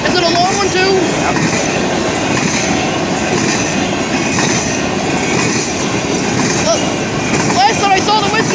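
A long freight train passes close by at Maumee Street, a loud, steady rumble of rolling wheels with clickety-clack and intermittent wheel squeals throughout.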